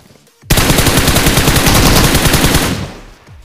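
A sustained machine-gun burst in BGMI cuts in abruptly, loud and close, rapid evenly spaced shots rattling for about two seconds before dropping to a quieter background.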